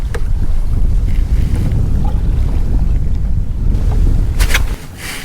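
Wind buffets the microphone on a small boat fishing in a Queensland estuary, a loud steady roar with low rumble that carries on throughout, with a few sharp splashy bursts near the end.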